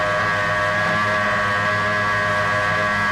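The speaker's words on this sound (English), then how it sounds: "You can hear the engine revving as it pulls out" Racing powerboat engine at an offshore grand prix start, a loud, close, steady droning roar heard from on board and holding constant throughout.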